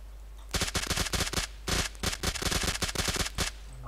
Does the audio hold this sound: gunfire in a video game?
yes